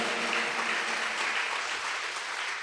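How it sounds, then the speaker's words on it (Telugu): Church congregation at a Sunday worship service clapping loudly together, a dense, steady wash of many hands sustained without pause throughout. "ఒకసారి గట్టిగా చప్పట్లు కొట్టండి త్వరగా."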